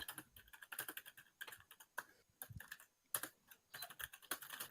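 Rapid keystrokes on a computer keyboard as someone types notes during a tabletop role-playing session, arriving in quick bursts of clicks with short pauses between them, close and fairly quiet.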